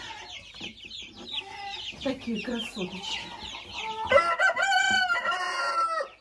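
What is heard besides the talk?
chicks clucking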